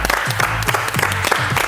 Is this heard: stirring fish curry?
no